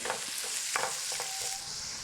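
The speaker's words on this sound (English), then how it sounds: "let's add the finely chopped onions and stir them in." Finely chopped onions sizzle in hot oil while a spoon scrapes and stirs through them in a few short strokes, close up and fairly quiet.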